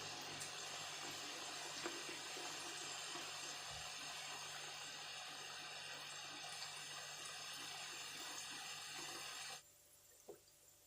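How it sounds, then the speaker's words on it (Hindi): Pieces of shakarpara dough, a crispy sweet snack, frying in oil over a low flame: a steady, dense close sizzle that runs continuously and then cuts off abruptly near the end. "लो फ्लेम पर आप इसे फ्राई कीजिए।"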